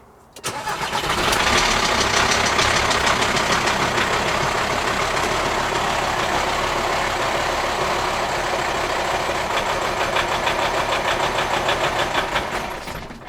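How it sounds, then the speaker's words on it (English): A VW T5 van engine cranks briefly and then catches after a fuel filter change, settling into a loud, steady idle that runs on close by. "we'll have to do some cranking to get it to fire up again"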